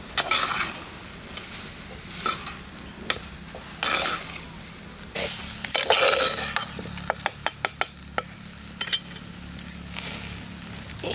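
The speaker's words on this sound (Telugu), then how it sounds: "మనకి బియ్యం పోసి కలుపుతాం" Rice is poured into a pot and mixed for a potato tomato biryani in a village kitchen. Bursts of scraping and stirring mix with sharp metallic clinks and a faint sizzle, close and irregular, with no talk.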